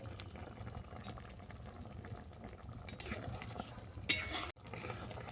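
Shrimp curry with mustard paste and chopped coriander simmering and being stirred, quiet bubbling with soft utensil scrapes and a brief louder clatter near the end, close and low in level.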